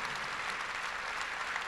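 An audience applauding at a talk, a dense, even wash of clapping that holds steady and fairly close for under two seconds.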